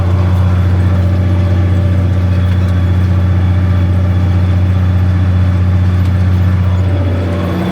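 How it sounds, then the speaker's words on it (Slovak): A ZTS 16245 tractor pulls a Kelly disc harrow across a field, doing very shallow stubble cultivation after cover crops, with a loud, steady, low engine drone that holds constant throughout and no talk. "Gelidisky pracujú"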